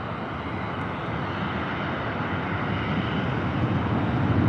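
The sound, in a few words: airplane taking off or landing near San Diego airport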